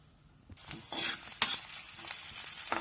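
Onions frying in a pan over a high flame, a steady close sizzle that kicks in after a brief quiet start, with occasional scraping stirs cutting through.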